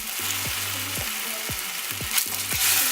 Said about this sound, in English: I'm gonna fry it on both sides, make it nice and brown.